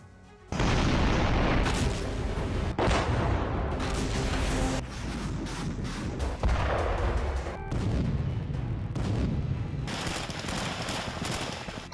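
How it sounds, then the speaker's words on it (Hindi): Super-heavy-caliber artillery firing in a war zone near Kharkiv: a dense series of loud, deep booms and blasts that follow one another over several seconds, with no voices. "सुपर हैवी कैलिबर आर्टिलरी का इस्तेमाल"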